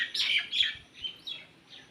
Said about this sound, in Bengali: গাছে গাছে প্রচুর পাখি কিচিরমিচির করছে আওয়াজ দিচ্ছে